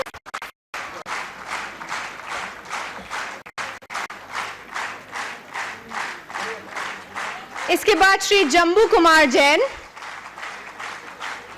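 Audience applause at a large marketing event: steady, rhythmic crowd clapping runs throughout, while a voice speaks over it briefly near the start and a sharp electronic warble cuts through toward the end.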